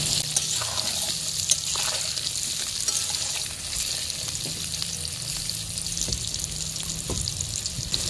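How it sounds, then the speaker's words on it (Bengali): Potato pieces fry lightly in a pan of hot oil, a steady crackling sizzle up close with occasional small pops and utensil taps breaking through the hiss. "আলুগুলো ভেজে নেওয়া হয়ে গেছে, এখন আলুগুলোকে আমি তুলে নিচ্ছি"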